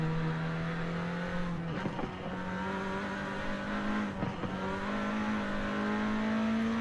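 A front-wheel-drive Honda Civic revving on a track in Forza Horizon 5, a steady engine drone rising in pitch with brief gear-shift dips and faint tire squeal, no talk.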